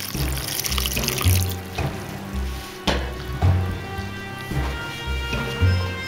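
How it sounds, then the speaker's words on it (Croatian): Cod cooking water pours and splashes steadily into a pot of cod stew, with soft repeated low thumps underneath and no voices. "Polijemo malo sa vodom u kojoj se kuhao bakalar."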